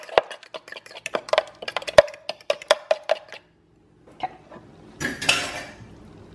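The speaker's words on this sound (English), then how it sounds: "I'm just gonna take a fork, break up that yolk," A fork clicks rapidly against a bowl while whisking egg yolks for chocolate chip cookie muffins, a burst of quick metallic taps, a pause, then a rougher scraping stir.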